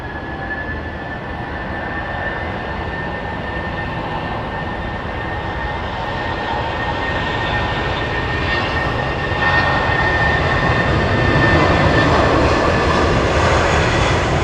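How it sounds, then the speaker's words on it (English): Virgin Atlantic Boeing 787 Dreamliner airliner taxiing at Heathrow Airport, a steady loud jet engine whine and rumble that swells slightly as it nears, with no talking. "Virgin Dreamliner taxiing towards us"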